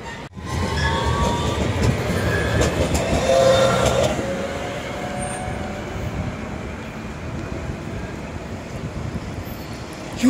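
A tram rolls past on street tramway tracks close by, a loud continuous rumble and rail roar that swells then slowly eases, with a screech near the start.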